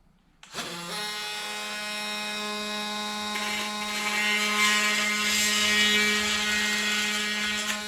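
An oscillating multi-tool trims about an eighth of an inch off an adapter plate for a 2024 Renegade XRS Packout build, a steady loud buzzing whine with strong harmonic overtones that starts abruptly and runs continuously without pause.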